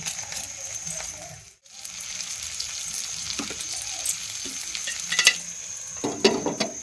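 Butter dropped onto hot charcoal to smoke tandoori chicken gives a continuous soft sizzle with scattered crackles and pops, fairly quiet and close, with no talking.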